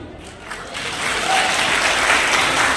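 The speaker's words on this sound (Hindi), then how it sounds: "आप यहाँ पे अपनी तालियां नहीं रोक पाएंगे" Audience applause at a voter awareness festival held at an Ayurvedic college in Udaipur, Rajasthan: sustained clapping from a crowd, building slightly and staying loud throughout.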